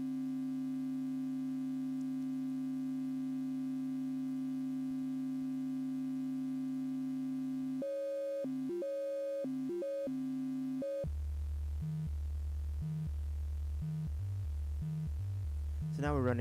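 Synthesizer notes stepped by a mod sequencer clock: a steady sustained tone gives way to rhythmic stepped notes that switch pitch in a repeating pattern, clean and electronic, with a brief noisy sweep at the very end.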